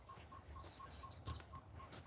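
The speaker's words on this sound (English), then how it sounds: "It's a sunbird." A sunbird sings in a forest, giving a steady run of short, bright chirps at an even rhythm, fairly close and clear over soft background ambience.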